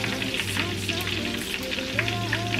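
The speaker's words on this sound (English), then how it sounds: "it'll start frying" Tomato paste frying in a pot for jollof rice, a steady close sizzle and crackle running throughout, with faint stirring and a hum beneath.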